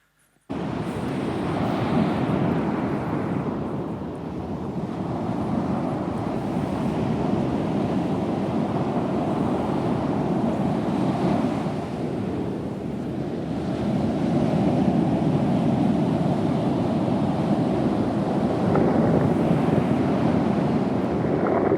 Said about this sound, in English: Here's a little bit of footage of what it looks like to get barreled.